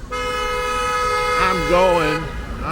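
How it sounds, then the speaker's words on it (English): A car horn blares in busy Chinese city traffic, one long steady honk whose pitch wavers near the end, loud and fairly close, with someone talking over it. "That guy's honking just because they love to honk."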